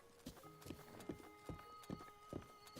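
Horse hooves clip-clop in a steady trot in a Zelda video game, with a rhythmic series of crisp, evenly spaced hoofbeats against soft background music.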